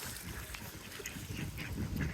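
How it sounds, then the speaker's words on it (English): Canada geese and other waterfowl give repeated honks and quacking calls close by during outdoor bird feeding, over a busy, steady background. "See if the Canadian goose will feed it on my hand, Ross."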